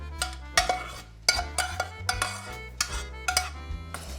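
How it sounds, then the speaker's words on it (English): A spoon stirs cooled cooked mushrooms and cheese together for a truffle ravioli filling, giving a series of close, sharp clinks and scrapes against a bowl in an irregular rhythm. "And we simply mix all together."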